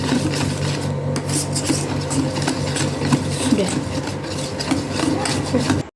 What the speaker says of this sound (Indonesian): kocok hingga akhirnya semua terlarut di dalam adonan pelan-pelan dan sampai mengembang menggunakan mixer tangan